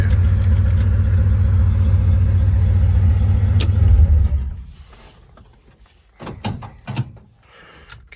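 A Plymouth Road Runner's engine runs loud and steady up close, a low rumbling drone that cuts off abruptly, leaving quieter clicks and clunks.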